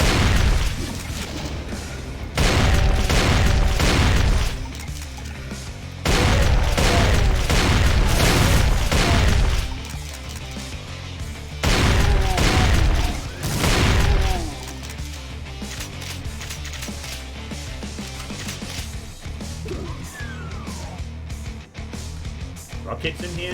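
Rocket explosions and gunfire in Brutal Doom come as loud, heavy bursts of blasts and shots in several clusters. Quieter stretches between them carry game sounds and someone talking.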